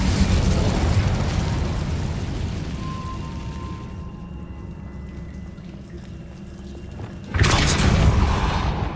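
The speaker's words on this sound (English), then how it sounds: "Incendio!" A fire spell is cast in Hogwarts Legacy with a loud burst at the start that fades to a low rumbling crackle, then a second sharp loud whoosh of flame near the end.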